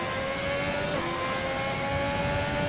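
A Ferrari Formula 1 car engine in the F1 2020 game holds a loud, continuous high-revving drone as the car crosses the start-finish straight at Abu Dhabi, steady and close throughout.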